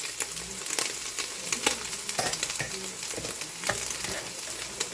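Pork pieces sizzling in a hot pan, a close, constant frying crackle with the scrape and tap of stirring scattered throughout and no voices.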